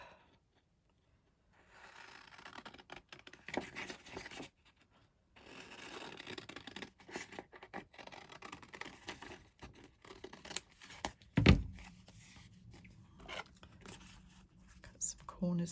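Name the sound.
big scissors cutting paper for craft folios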